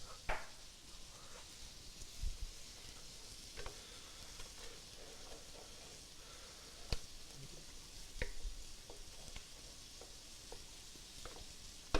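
Quiet sizzling of mushrooms in a dry pan, with soft crackles and occasional scraping clicks from stirring.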